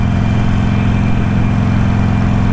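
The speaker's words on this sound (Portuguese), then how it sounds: "Motorzinho V, faz esse barulhinho gostoso, característico da Harley." Harley-Davidson Iron 883 with a V-twin engine running steadily up close, a loud, even low throb with a pulsing rhythm and no talk.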